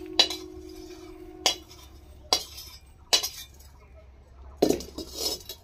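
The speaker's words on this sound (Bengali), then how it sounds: "একবারে হামাল দিস্তায় নিয়ে নিচ্ছি।" Dry-fried whole spices for an aloo chop are tipped into a mortar and pestle, giving five sharp, bright clinks spaced about a second apart with a low steady hum underneath.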